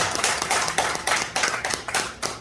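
A church congregation claps together in thanks after a prayer at a New Year thanksgiving service, a few seconds of fairly quiet, uneven hand claps with no voices over it.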